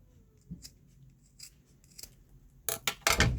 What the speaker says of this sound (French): on va d'abord commencer par couper la feutrine